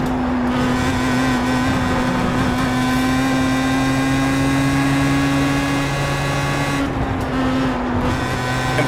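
Pro Mazda open-wheel race car lapping Brands Hatch, its engine holding a steady high drone with shifting pitch, loud and close throughout, briefly dipping near the end before pulling again.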